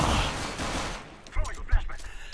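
A CZ pistol fires in a multiplayer shooter game, heard as a dense burst of rapid gunfire followed by a few separate louder shots, close and punchy against game noise.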